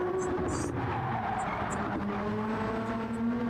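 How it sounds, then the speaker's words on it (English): A race car in the video game Gran Turismo 7 at a gaming event qualifier, steady engine drone with tyre squeal, heard under voices and crowd chatter. "only one car circulating at this time."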